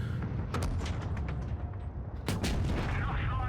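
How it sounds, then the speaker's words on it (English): Tank cannon fire in a World of Tanks Blitz battle, a few sharp booming blasts over a constant loud game soundscape. "Want to try to get a shot into the E-100."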